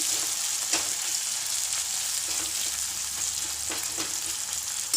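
Tomatoes fry in a pan for potato bhaji served with dosa, a steady, bright sizzle with occasional soft stirring scrapes, close and continuous without talk.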